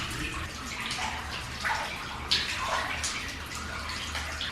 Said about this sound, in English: Looks like there's a very mossy pipe dripping down.